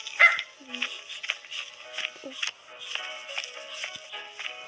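A dog in the Roblox video game gives a string of short, sharp yips and barks at close range in an uneven rhythm.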